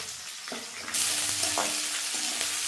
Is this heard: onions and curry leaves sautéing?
yes